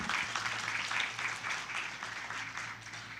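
Seminar audience applauding a speaker at a joint climate change seminar, steady dense clapping throughout with a low hum beneath.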